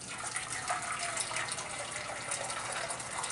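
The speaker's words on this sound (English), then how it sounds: "I'm gonna pour it in the pot" Previously boiled water pours steadily from a water brewer into a pot, a continuous soft splashing and gushing stream, fairly quiet and close, with no talking.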